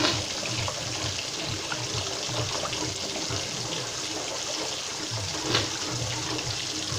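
Water pours steadily into a cooking pot of thick rice porridge, a continuous close rushing splash with no voices.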